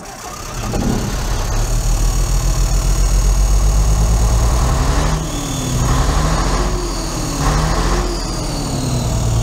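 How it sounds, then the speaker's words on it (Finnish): A 1960s Scania truck engine cranks and catches, then settles into a loud, steady diesel idle with a deep rumble, close by and without talk. "Laitetaan 60-luvun Scania käyntiin."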